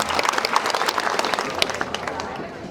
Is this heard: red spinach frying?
no